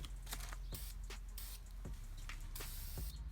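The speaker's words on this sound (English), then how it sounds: "I like to spray all the edges and hard to reach areas first." Repeated short hissing bursts of spray paint from an aerosol can onto an aluminum engine valve cover, close by, with brief pauses and light rattling in between.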